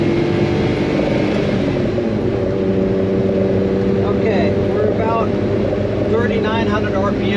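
A kei truck engine drones steadily at about 3,900 RPM while cruising near 40 mph, a constant loud hum with road noise and talk over it.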